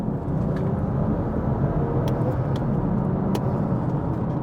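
BMW F87 M2 with a stage 2 tune, about 400 hp, driving along with a steady, loud engine and road drone heard continuously from inside the car, with faint occasional ticks.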